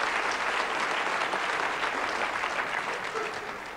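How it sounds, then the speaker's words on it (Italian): Theatre audience applause at a stage comedy show, dense and sustained for the whole stretch, a steady wash of many hands clapping with no voices over it. "io invierei un commosso applauso"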